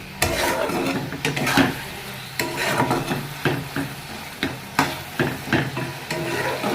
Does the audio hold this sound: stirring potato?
yes